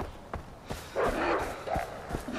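A dog barks in the video game Far Cry 4, a string of sharp barks and yips rising over game action, moderately loud and close.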